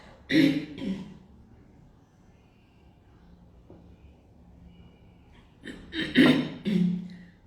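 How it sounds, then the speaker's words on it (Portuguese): Two bursts of coughing and throat clearing, one at the start and a louder one near the end, separated by a quiet pause. "Desculpa, agora me deu tosse."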